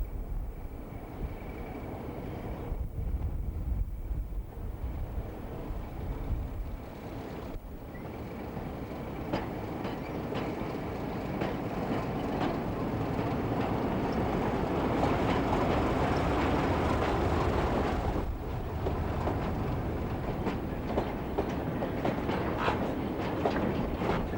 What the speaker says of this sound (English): (31-435) arrives with a departmental service from Gloucester